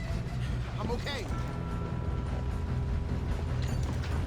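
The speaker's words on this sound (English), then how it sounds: "If we don't stop this train soon, the other boys will never catch us." A moving train in the Red Dead Redemption 2 video game rumbles and clanks mechanically, with rattling, creaking metal under a short spoken line and brief game effects.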